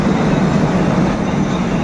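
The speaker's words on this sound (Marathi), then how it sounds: "ट्रेन पाच मिनटं आधीच पोहोचली आहे दहा मिनटं" Loud, steady rumble of a train arriving at Panvel station, a broad continuous roar close by with no clear speech.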